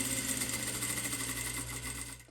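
Sewing machine stitching a zipper fly, running continuously at close range with a rapid, steady mechanical whir and fine rhythmic clatter, slowing slightly at the end.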